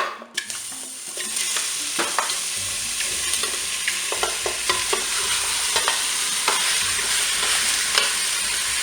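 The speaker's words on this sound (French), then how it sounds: "Cookéo vient de terminer son préchauffage, donc je vais pouvoir eh bien, faire dorer mes saucisses" Toulouse sausages browning in a preheated Cookeo multicooker give a steady, close sizzle and fry throughout, with light clicks and scrapes of stirring scattered over it.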